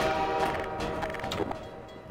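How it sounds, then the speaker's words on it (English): A train rolling past in the video game Half-Life 2, a steady rumbling rail noise with clanking at moderate volume, heard alone for a couple of seconds. "The train helps us."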